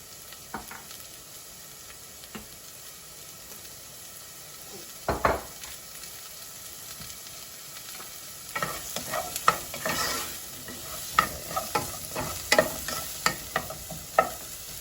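Lentil soup ingredients browning in a pot over raised heat, giving a low steady sizzle with sparse stirring knocks early on, then a busier stretch of spoon-against-pot clatter and scraping, no speech.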